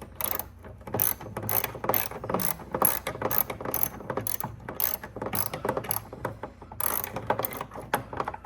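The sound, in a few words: socket wrench ratchet loosening headlight part on Ford Fusion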